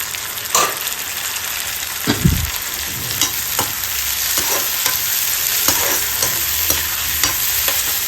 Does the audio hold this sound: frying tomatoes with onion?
yes